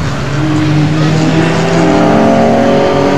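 A Formula Ford race car at the 2006 Formula Ford Festival drones past with a loud, steady engine note and layered harmonics that hold for the whole few seconds, with faint trackside noise underneath.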